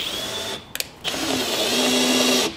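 A power drill drives a screw into a wooden plank during house building, its close, steady motor whine cut by a short pause before running again at a lower, strained pitch.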